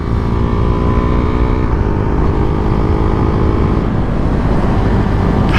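A 2022 Husqvarna Vitpilen 401 motorcycle being ridden, its engine droning loud and close with a steady note that dips as the rider shifts or eases off, no talk.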